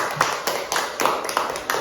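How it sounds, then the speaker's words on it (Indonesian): A few students clap in a classroom: sparse, uneven claps spaced roughly every quarter to half second, fairly quiet, with faint room noise between them. "Ya udah, tepuk tangan."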